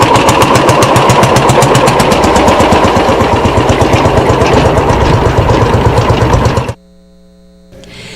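A tractor engine runs loud and close with a fast, even chugging pulse, then cuts off abruptly near the end, leaving faint background hum.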